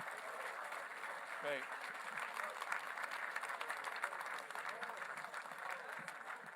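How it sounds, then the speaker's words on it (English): A crowd applauds the winner of a King of the Table arm-wrestling match, a steady moderate wash of clapping with a voice speaking briefly over it. "please give a round of applause to your winner, Krasimir, the Dragon, Kostadinov"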